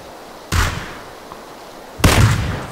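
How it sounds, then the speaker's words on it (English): Two sharp gunshots from the video game PUBG, about a second and a half apart, each a loud crack with a short decay. "I keep shooting them all."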